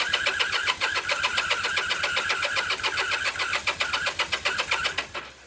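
A 1978 Kawasaki KZ400 motorcycle engine cranks with a fast, pulsing starter churn that sputters and tries to catch for about five seconds, loud and close, then cuts off abruptly.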